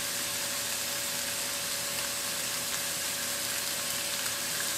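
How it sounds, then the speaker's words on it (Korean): Mushrooms fry in olive oil in a frying pan, giving a steady, dense sizzle that holds at an even level throughout, close up and with no voices. "결국 올리브유를 둘러줬어요. 프라이팬에 버섯을 올리고 후추와 소금으로 간을 해주세요."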